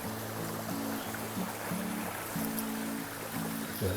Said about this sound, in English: I like to hear the sound of the water rushing through.